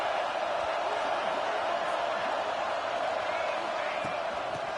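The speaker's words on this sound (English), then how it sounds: "how nice is it to have the home crowd going absolutely bananas?" A home crowd at a football game roars loudly and without a break, a dense, steady wall of cheering that swells slightly throughout.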